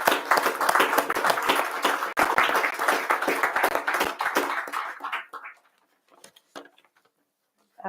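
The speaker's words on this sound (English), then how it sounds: "So please join us for a round of applause for Demis." An audience at an evening talk applauds steadily for about five seconds, then the clapping thins into a few scattered claps and fades to silence.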